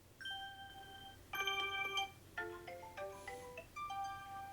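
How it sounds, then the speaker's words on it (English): A Reolink camera app plays its notification tones, a quiet series of short melodic chimes and ringtone-like jingles, several different ones heard one after another. "And you can also change the notification tones"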